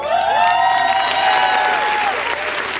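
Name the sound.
live podcast audience applauding and cheering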